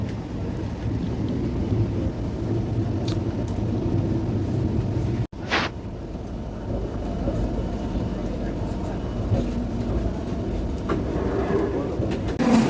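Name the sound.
Falaknuma Express train running, heard from AC first class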